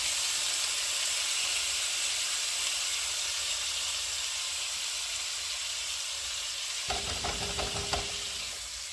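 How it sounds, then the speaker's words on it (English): A meat mixture sizzles in a hot, lightly oiled skillet with a steady, even hiss, then a brief clatter of a utensil near the end. "I'm going to take this meat mixture and put it into my skillet."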